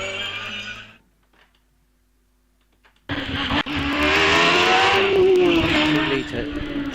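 Hillclimb race car launching up the course at a British hillclimb event, silence broken by a sudden loud engine roar that climbs in pitch as the car accelerates away, close and sustained to the end.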